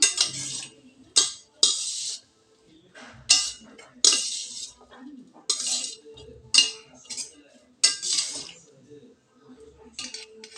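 A spoon clinks repeatedly against a dish while fried rice is mixed with no oil and no cooking, bright scraping clinks arriving in irregular bursts close up, with faint talk in the background.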